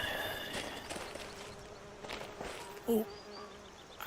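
In Skyrim VR a bee buzzes close by for a few seconds as a faint, wavering drone, and a brief clunk near the end briefly cuts across it.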